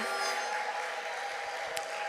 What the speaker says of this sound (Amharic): እስቲ እልልታና ጭብጨባ ለዚህ ጌታ እናቀርባለን